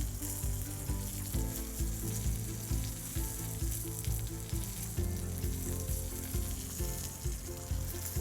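Chicken sizzles and fries steadily in a hot pan while chicken marsala is being cooked, a dense continuous crackle close by with no talking over it.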